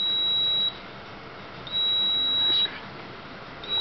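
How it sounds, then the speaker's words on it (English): A small speaker on a PSoC breadboard traffic-light setup emits a pedestrian-crossing signal: a steady high electronic tone repeating in long on-off pulses, about one second on and one off, loud and alone. "the beeping of the speaker is for the pedestrian crossing"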